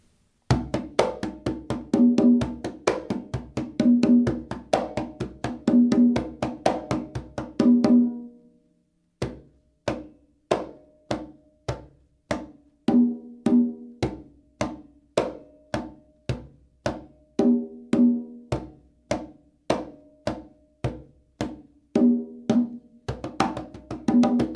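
Conga drum playing the marcha rhythm, a steady loop mixing open, slapped and muted tones, first at a brisk tempo, then after a short pause at other speeds, played solo and close.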